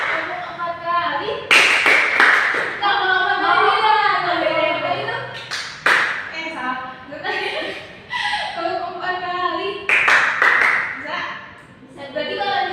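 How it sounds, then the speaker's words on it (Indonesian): Hands clapping in counted groups of one, two, three and four during a classroom rhythm game, sharp bursts of claps recurring between stretches of a teacher's spoken instructions, with a little laughter. "Tepuk sekali, tepuk 2 kali, tepuk 3 kali, tepuk 4 kali"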